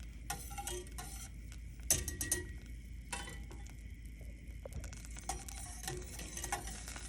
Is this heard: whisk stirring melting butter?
yes